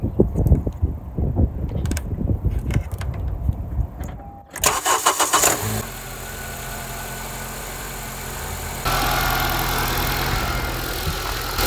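An RV engine is cranked and started after a battery replacement: brief mechanical clatter, then a sharp start that settles into a steady idle, which rises slightly in level partway through.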